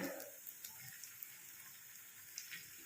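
Small drops of sabudana punugulu batter fry in hot oil. A faint, steady sizzling hiss carries scattered tiny pops and crackles, with no other sound.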